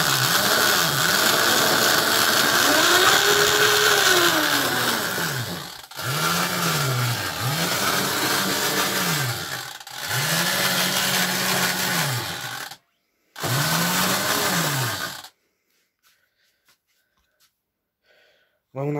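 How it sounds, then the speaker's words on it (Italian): An electric scooter motor, run again after two months unused, whines with rising and falling pitch in repeated bursts, then cuts out to near silence at the end. "Mamma mia, come va ora questo motore."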